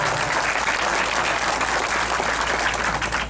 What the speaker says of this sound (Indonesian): Terima kasih dan tepuk tangan untuk kita semuanya.